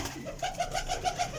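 Domestic pigeons in a home loft coo in a short series of soft, rhythmic low calls, heard close and fairly quiet.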